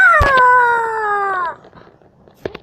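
A puppy lets out a long, high whimpering howl that trails off, followed by a couple of faint short yips.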